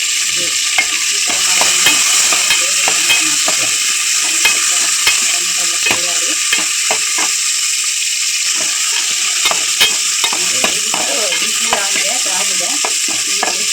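Chopped tomato, onion and curry leaves fry loudly in a pan for a coastal fish curry, a steady bright sizzle broken by repeated scraping stirs of a spatula, close up with no voices.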